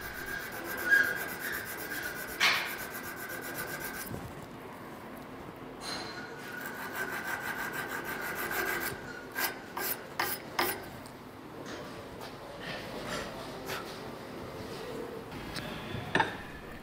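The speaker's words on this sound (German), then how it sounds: "Dann poliert er mit Schleifpapier fein nach." Sandpaper smoothing a hunting rifle part after filing, heard as soft, close rubbing strokes in irregular bursts, with a few sharper scraping and clicking sounds in a quiet workshop.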